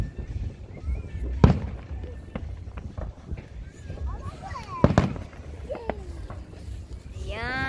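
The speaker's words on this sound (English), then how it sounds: "Yung fireworks guys, ganyan sila, 30 yan guys, 30 minutes ginado lang guys" A Fourth of July fireworks display goes off outdoors near a backyard cookout, with two sharp booming bursts and crackle amid ambient noise, while people talk nearby.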